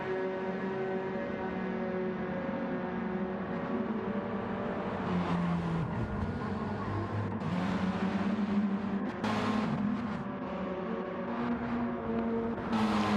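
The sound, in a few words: race cars driving in a racing video game endurance race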